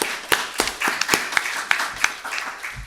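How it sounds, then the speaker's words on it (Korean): A small church congregation claps at a Sunday worship service, a handful of distinct claps landing in a loose, uneven rhythm, close and moderately loud with short gaps between them, and no talking. "우리 잠깐 박수 한번 우리 해주실까요?"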